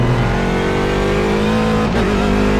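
A race car engine in the iRacing sim pulls out of pit lane at Barber during IMSA GT practice. It drones loud and steady throughout, with a brief dip and shift in pitch near the end.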